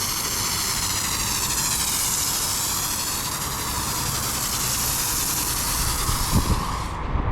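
A pump foam sprayer hisses steadily while spraying Z1 foam onto the side of a car, a loud, continuous spray that runs almost the whole time, with a few soft knocks near the end.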